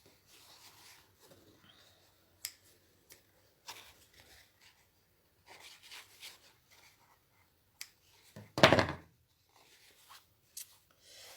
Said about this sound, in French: je coupe mes fils à ras